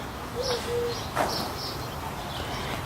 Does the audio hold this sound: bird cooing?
yes